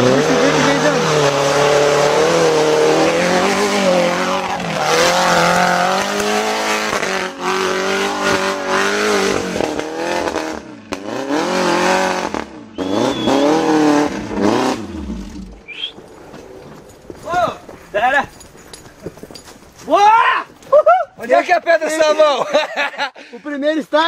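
An off-road vehicle on a trail climbs a soapstone rock, its engine revving hard in rising and falling surges with tyre noise. Loud talk runs over the engine throughout, and the revving turns into sharper, separate bursts toward the end.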